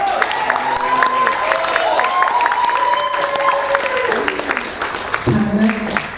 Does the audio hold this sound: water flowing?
no